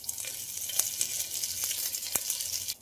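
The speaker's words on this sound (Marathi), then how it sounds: "त्याच्यामध्ये मी हो कढीपत्तो घालतोय" Curry leaves dropped into hot oil sizzle and crackle steadily, with a few sharper pops standing out above the continuous hiss; close and fairly loud, no talk.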